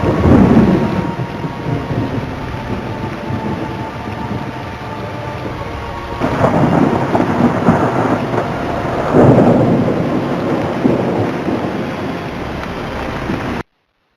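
A thunderstorm with heavy rain in Gujarat, steady loud downpour hissing throughout with low rolling thunder swelling in several waves, no voices present.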